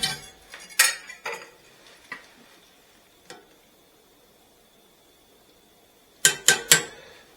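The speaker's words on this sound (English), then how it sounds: "So, go ahead and whisk it often." A whisk clinks and scrapes against a pot of cherry cordial ice cream base in short bursts, with a long quiet gap before a final quick flurry of metallic taps.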